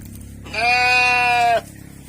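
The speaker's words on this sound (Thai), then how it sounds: "น้องแกะมานี่เร็ว น้องแกะ เดินหาแม่เลยค่ะ" A lamb on a sheep farm in Kalasin, Thailand, looking for its mother, gives one loud, sustained bleat lasting about a second, close by, over faint farm background.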